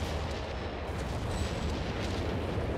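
Artillery barrage in Company of Heroes 3, heard as a dense, continuous low rumble of distant shelling and blasts that holds steady, with no talk over it.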